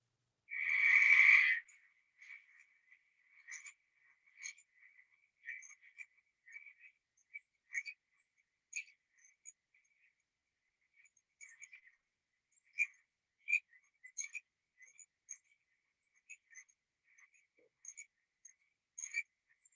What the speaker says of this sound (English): listen to the frogs sing.